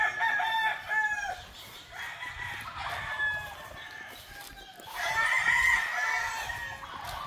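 Sweater gamefowl roosters crow repeatedly at a breeding farm in Isabela, Negros Occidental, with several loud overlapping calls, some clucking and other birds in the background.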